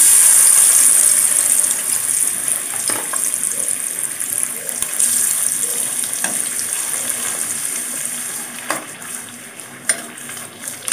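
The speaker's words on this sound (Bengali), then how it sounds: "তো এখন হচ্ছে শিং মাছগুলি দিয়ে দিব।" Shing fish (stinging catfish) dropped into hot oil in a pan, a loud close sizzle that is strongest at first and then eases to a steady crackle, with a few scattered clicks and no talking.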